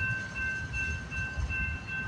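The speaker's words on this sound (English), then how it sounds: "I don't know what symbol this train is." A freight train passes at Delray Junction, a steady rumble of rolling cars with a thin high metallic whine from the wheels running throughout, no voices over it.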